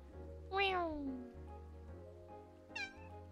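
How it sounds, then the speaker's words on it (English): A cat in the cozy video game Calico meows twice, a long falling meow followed by a shorter, higher one, loud and clear over a soft steady game-music drone. "Then it was just our cat meowing."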